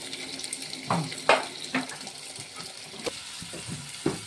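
Cold water is poured into a hot fish curry pan in a few splashy bursts, with gurgling and hissing between pours, up close.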